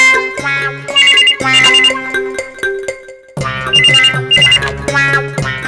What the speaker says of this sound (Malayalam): പോയി ഫോൺ എടുക്കണ്ട